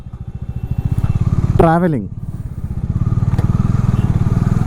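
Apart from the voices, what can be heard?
motorcycle riding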